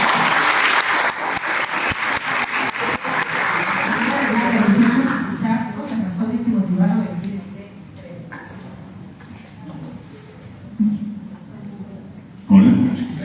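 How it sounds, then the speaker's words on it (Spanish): An audience at a municipal innovation workshop for women mayors bursts into applause, dense clapping that fades out after about six seconds, followed by speech and a few scattered sounds. "Un aplauso."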